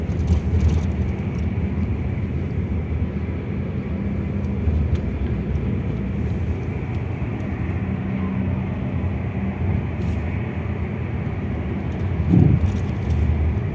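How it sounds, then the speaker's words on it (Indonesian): Steady low engine drone and road roar from inside a Juragan 99 Trans first-class bus cruising a toll road near Karawang while overtaking another bus, continuous and even with a brief louder swell near the end. "akhirnya kita mendahului dari bis Harapan Jaya"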